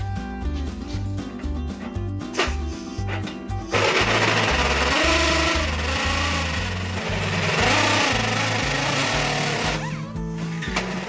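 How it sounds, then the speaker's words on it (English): A carbide burr grinds out a hole in metal during a vehicle crossmember repair, producing a loud, continuous high-speed rotary whine with shifting pitch and gritty cutting noise throughout. "All right, I got some of it with a carbide burr."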